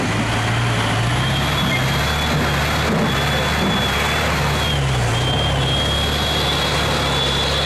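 A Soviet military off-road truck engine drones loud and close, with its pitch dipping and rising as the gears change. There is a steady rumbling roar throughout and no talking.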